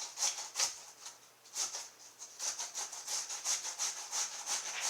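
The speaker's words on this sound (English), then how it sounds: "So you continue grating these up." Cucumbers rubbed against a box grater for relish, a close, steady run of rasping strokes in quick rhythm with no talking.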